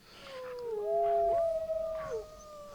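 Several wolves in the Planet Zoo game let out overlapping, drawn-out howls that rise and fall together for a few seconds, moderately loud over a quiet low ambience.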